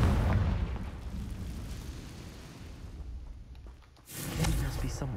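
A Confringo blasting spell in Hogwarts Legacy sets off a rumbling explosive blast that fades, then a second sharp boom bursts out near the end, with a voice heard under the noise.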